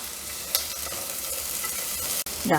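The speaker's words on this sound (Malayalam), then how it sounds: "അതിലേക്ക് 2 പച്ചമുളക് അരിഞ്ഞത്, ഒരു സവോള ചെറിയ പീസസായി കട്ട് ചെയ്തത് കേട്ടോ, അതും കൂടി ഇട്ട് കൊടുത്തിട്ട് ഒന്ന് വഴറ്റി കൊടുക്കാം." Chopped green chillies and onion sauté in coconut oil with a steady, close sizzle, broken by a couple of spatula scrapes and a brief dip in the sound near the end.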